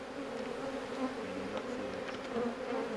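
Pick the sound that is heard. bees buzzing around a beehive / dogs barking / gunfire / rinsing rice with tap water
bees buzzing around a beehive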